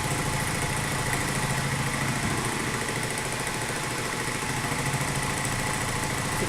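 A milling machine cuts steel for a Kurt vise stop bracket, a steady dense mechanical whir and grind that runs continuously and fairly loud with no pauses.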